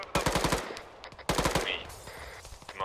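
Video game gunfire in Arma 3 during a fight against Terminator enemies: two close, loud bursts of rapid automatic shots, each a quick string of sharp cracks, followed by fainter scattered sounds.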